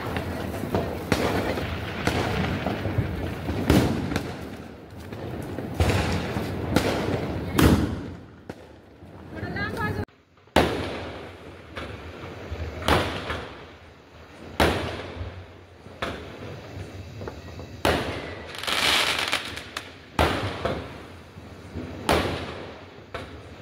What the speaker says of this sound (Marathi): बाहेर अजून माझा भाऊ फटाके फोडतोय